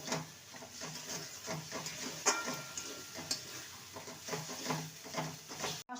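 Green peas stir-fried with spices in a pan give a soft sizzle broken by repeated scraping and stirring strokes in an uneven rhythm, quiet and close, with no voices.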